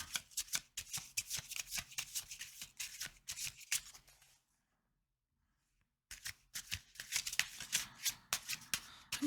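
Tarot cards shuffled by hand in quick, close riffling bursts, a dense crisp patter that stops for about two seconds of silence and then resumes.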